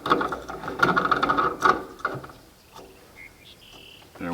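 A new standard replacement gas cap on a 1980 Cadillac is twisted on, giving a rapid run of close ratcheting clicks for about two seconds, then fainter scattered clicks and small mechanical sounds.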